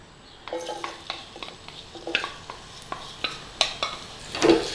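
Garlic sizzles in olive oil in a pan as a utensil stirs it, giving a soft steady fry with sharp scraping and clinking knocks against the pan, close and quiet, no voices.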